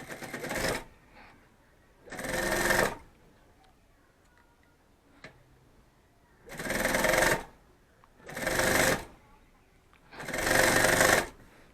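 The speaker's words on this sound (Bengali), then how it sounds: "প্রথমে এক পাশ সেলাই হলো," A sewing machine stitching a bag runs in four or five steady whirring bursts of a second or so, loud and close, with quiet gaps between runs.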